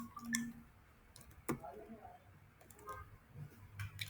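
A few sharp computer mouse clicks in a quiet room while navigating Facebook Ads Manager, spaced irregularly and fairly faint.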